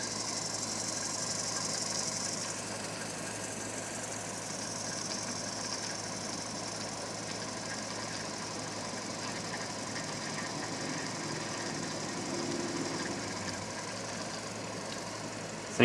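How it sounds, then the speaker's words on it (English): An extended spotting drill bores into a six-cycle engine flywheel on a lathe, producing a steady, continuous machine hum and rattling vibration with no breaks. "This is a spotting drill that's extended out pretty far."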